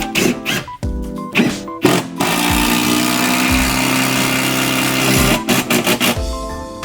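A power drill drives the final screw of a full-motion TV wall mount into a wall stud, a steady motor whine holding for about three seconds between shorter clicks and bursts of handling noise.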